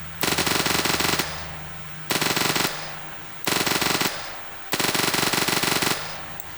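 Automatic gunfire from a weapon in a Unity 3D zombie shooter game comes in four loud, rapid bursts, each lasting about a second, separated by short silences.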